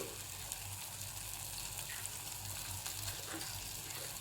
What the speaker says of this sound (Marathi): कढीपत्ता टाकला तर छानपैकी मसाला चांगला परतून घेते भाजून घेते